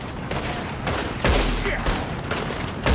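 Gunfire in Red Dead, a dense, loud volley of overlapping shots and sharp cracks that goes on without a break, with a heavy blast near the middle and another at the end.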